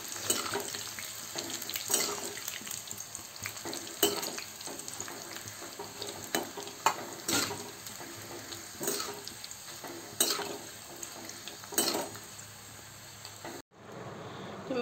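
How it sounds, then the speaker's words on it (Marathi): Leftover roti strips deep frying in oil on a low flame, giving a steady, moderate sizzle broken by scattered clinks and stirring taps before it cuts off abruptly near the end. "ह्या ज्या स्ट्रिप्स केल्या होत्या ह्या आता तेलात टाकून डीप फ्राय करून घेऊया"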